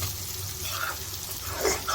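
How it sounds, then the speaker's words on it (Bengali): Onions frying in a pan give a faint, steady sizzle with soft crackling for a brief moment, no voices over it. "আর আরেক পাশে এখানে পেঁয়াজ ভাজা হচ্ছে।"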